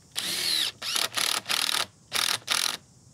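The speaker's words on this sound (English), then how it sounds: "I'm just going to pre-drill a hole." A power drill pre-drills a hole through a timber brace on a wooden gate, running in five close, loud bursts of whirring with short pauses between them, no talking.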